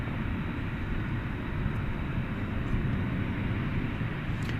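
DHL ABX Air Boeing 767 taking off at night at DFW Airport, heard as a steady, broad jet engine roar holding at an even level throughout.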